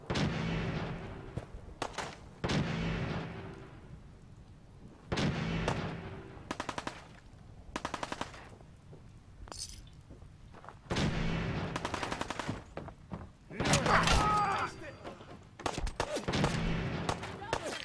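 Repeated bursts of Fallout 4 gunfire ring out, rapid volleys of shots in clusters with short pauses between them. A loud, sharp crack stands out near the end, and a voice talks over parts of the firing.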